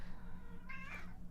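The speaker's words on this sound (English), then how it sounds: "Kitty, stop meowing." A house cat gives one clear, drawn-out meow that rises and falls, heard faintly indoors over a low steady hum.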